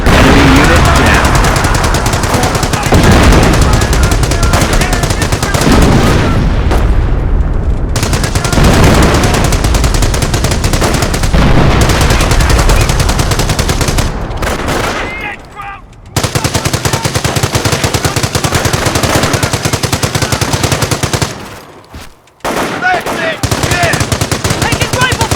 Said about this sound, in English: Taking rifle fire!